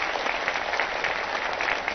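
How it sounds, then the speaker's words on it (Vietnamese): An audience at a Christmas celebration concert claps in dense, steady applause that fills the whole moment, loud and close without voices. "Xin này dành cho họ một tràng pháo tay thật lớn ạ"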